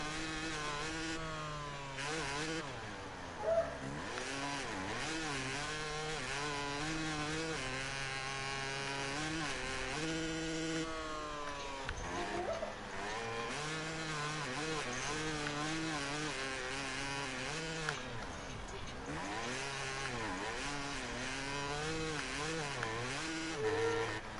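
A 125 two-stroke motocross bike engine from MXGP 2021 buzzes continuously, its high raspy tone rising and falling as revs swing up and down.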